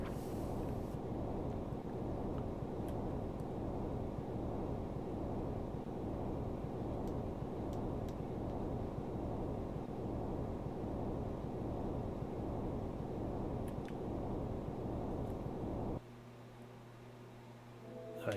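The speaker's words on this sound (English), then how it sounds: "The wind blows through a crack in the wall." Wind howling through a crack in a wall in the SNES game Illusion of Gaia, a loud, steady rushing roar that cuts off abruptly near the end, leaving a thinner, lower hum.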